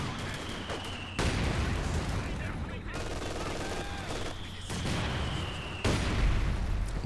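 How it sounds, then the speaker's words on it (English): Mortar fire in Company of Heroes 2 during a 2v2 match, with repeated booming shell impacts and bursts of gunfire forming a dense, loud, continuous battlefield roar. "Mortars trading blows"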